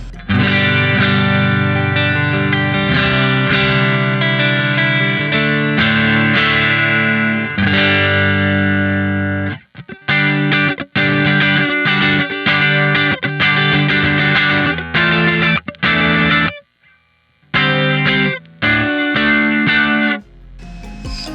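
Electric guitar with single-coil pickups played through a NUX MG30 multi-effects unit, a distorted, chorus-tinged tone with sustained chords and riffs, a few brief pauses near the end, loud and close with no talking.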